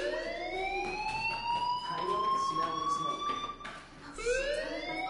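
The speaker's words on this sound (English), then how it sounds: "do you hear that fire alarm?" A fire alarm wails continuously in the Life Is Strange video game, a loud rising and falling siren tone that holds steady for several seconds with a brief dip, under a character's speech.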